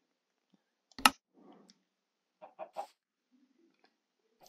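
Minecraft chickens give a few short, soft clucks in quick succession, preceded by a sharp click and a brief rustle, with quiet gaps in between.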